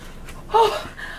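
A single sharp, breathy gasp of air, close and fairly loud, with faint background sound before and after.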